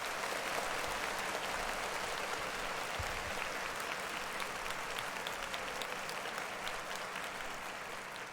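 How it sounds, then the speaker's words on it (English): Crowd applause at a hip-hop festival lineup event, a steady wash of clapping and cheering that holds across the whole stretch without pause, loud and dense, gently tapering near the end. "Clap it up for Juice WRLD's Lean Man."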